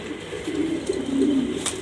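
Pigeons cooing close by, a soft, low, rolling coo that repeats steadily with no voices.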